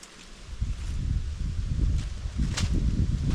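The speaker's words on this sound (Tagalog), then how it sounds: "Lakas ng hangin." Strong gusts of wind roar and rustle through leaves at a rural provincial spot where ikmo (betel) leaves and mangoes are being harvested. The blustery noise is steady and fairly loud, swelling in low rumbling bursts throughout.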